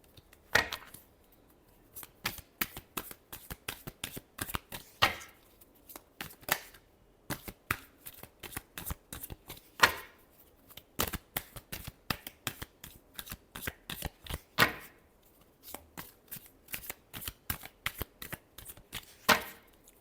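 Tarot cards are shuffled by hand in quick riffling bursts, crisp papery clatters recurring in irregular clusters, close and quiet, with no talk over them.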